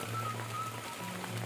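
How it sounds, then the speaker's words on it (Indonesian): Steady rain falling around a remote village prayer house in Java, an even, continuous hiss of drops with a faint low hum underneath and no talking. "Hujan masih belum berhenti sahabat ya."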